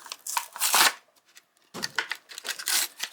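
Packaging on a 1987 Matchbox Red Rider toy car is ripped open up close, making crinkly, papery tearing bursts. One burst comes, then a short pause, then a second run of rips.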